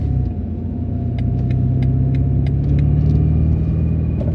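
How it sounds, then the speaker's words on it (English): A 2025 BMW M5 V8 gives a deep, steady low rumble at idle or light cruise, close and loud, with a few faint clicks on top and no talking. "you can hear the rumble of the V8"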